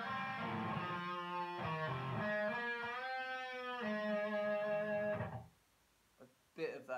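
Slowed-down punk-style electric guitar solo built on unison bends, with the fourth-string bend against the open E, sustained, wavering pitch glides that ring steadily for about five seconds before cutting off, followed by a few brief plucks.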